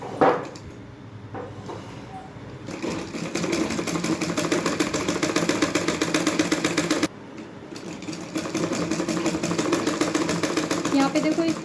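Sewing machine stitching a palazzo, with a rapid mechanical whirr that starts after a short pause, runs steadily, breaks briefly and resumes, fairly close and moderately loud.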